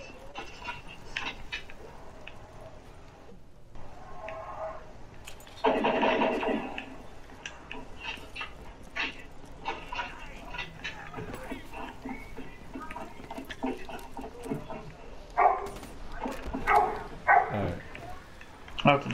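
Zombie dogs in a Call of Duty zombies dog round pant, whimper and bark in short bursts at varying distances, mixed with game effects and a player talking.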